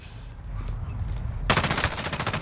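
An MG34 machine gun firing in Call of Duty Modern Warfare, a loud, rapid automatic burst that erupts suddenly after a quieter stretch and rattles on steadily to the end.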